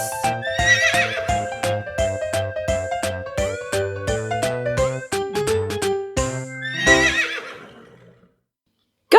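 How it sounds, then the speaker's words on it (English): A horse neighs loudly near the start and again near the end, each whinny rising over a bouncy, rhythmic cartoon-style musical backing that plays throughout. "Horse."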